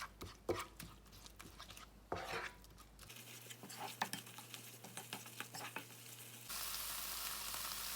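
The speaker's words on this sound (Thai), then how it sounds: "พัดให้พริกแกงหอมนะคะ" Thai red curry paste sizzles and crackles in a hot pan while a utensil scrapes and stirs, quiet and close, with no voices.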